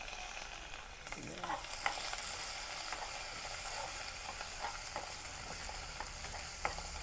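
Onion and green chili frying in a pan with fennel seeds, a continuous close sizzle broken by occasional scraping and tapping stirs, with no talk.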